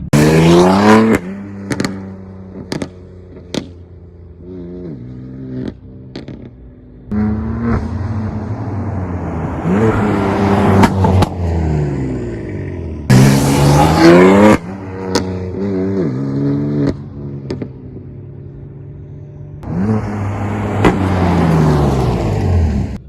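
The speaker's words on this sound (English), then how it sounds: "those were pretty good videos of it just driving by, letting it do a little pop" A BMW M-series F-series sports car with a tuned burble setting drives past several times, engine revving loudly and fading, with sharp exhaust pops crackling as it passes. No voices.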